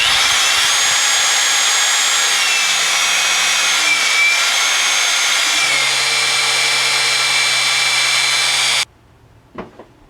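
A power drill spins the oil pump to prime the engine of a 1961 Chevy Apache, giving a steady, loud high whine for about nine seconds before cutting off abruptly, followed by a few faint clicks.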